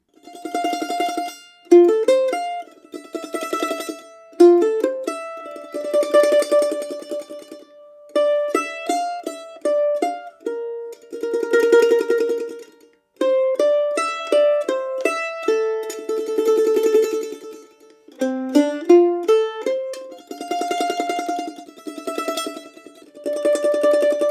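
A mandolin plays Musetta's Waltz from Puccini's La Boheme, a lilting melody in three-quarter time, notes ringing brightly with tremolo passages and short pauses between phrases.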